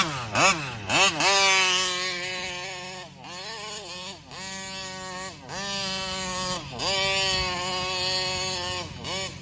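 A 35cc Taylor Reed engine in a Kraken Vesla RC car, running down on power, revs loudly and repeatedly in a high buzzing two-stroke whine, the pitch sweeping up and down in bursts, with no talking.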